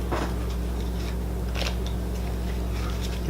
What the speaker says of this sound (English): So let me shuffle these up.